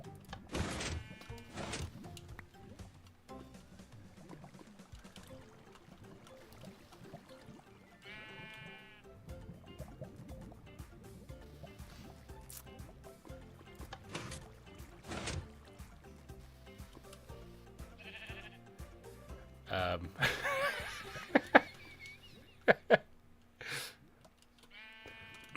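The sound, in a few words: sheep bleating in video game Minecraft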